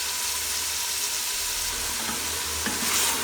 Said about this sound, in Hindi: लहसुन अदरक को मैं अच्छी तरह से गोश्त में फ्राई करूँगी